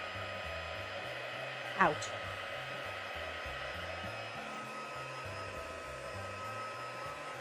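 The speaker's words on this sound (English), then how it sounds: "you're going to use your heat tool and just take most of the moisture" Crafting heat tool blowing hot air to dry damp card, a steady close whooshing hum throughout with a faint mechanical buzz and one brief sharp knock, while a voice speaks briefly.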